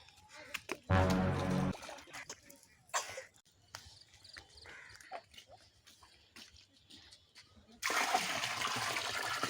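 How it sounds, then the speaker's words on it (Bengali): Water is poured into a home fish tank in two near, rushing bursts, one early and one at the end, with quiet scattered handling noises between them. "পানি কম হয়ে গিয়েছে, পানি দিতে হবে।"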